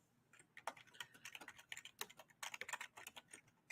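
Typing on a computer keyboard, quick irregular clicks and taps in bursts, close but quiet, with no other sounds.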